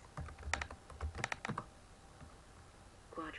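Typing on a computer keyboard during a spelling quiz activity, with bursts of quick, close key clicks in the first half, a quieter stretch, then a few more taps at the end.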